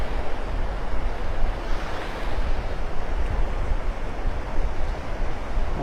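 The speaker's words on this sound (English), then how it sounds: "Wind's bouncing me around here." Strong wind gusting on Delnor-Wiggins beach in North Naples, Florida at sunset, a loud continuous roar buffeting the microphone with surf washing underneath, no voices.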